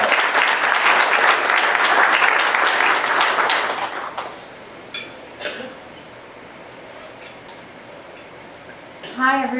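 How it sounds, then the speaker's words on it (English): Audience applause at a cannabis summit main address for a speaker, dense clapping for about four seconds that tapers off into a quiet room, with a few scattered claps and a voice near the end. "Let's give her a round of applause."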